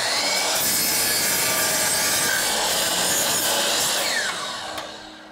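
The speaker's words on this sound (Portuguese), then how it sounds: "acho que eu vou passar numa serra" A saw cuts into a ball made of colored pencils with steady, harsh rasping strokes. The sound is loud and close, then eases off near the end.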